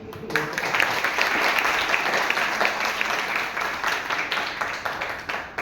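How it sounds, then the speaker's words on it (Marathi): Children clap together in a lively burst of applause that runs steadily for several seconds, dense and fairly loud, with individual claps blending into a continuous patter and no one speaking over it. "बाळांनो, याबद्दल तुम्ही टाळ्या वाजवायला पाहिजे"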